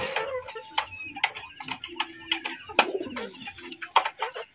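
Desi chickens clucking and pigeons cooing close by on a farm in a busy, overlapping chorus, with short calls repeating irregularly throughout.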